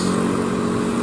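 A Hino Jetbus 3 HDD bus climbing a hill gives a brief, loud, steady engine drone with a low rumble, close by.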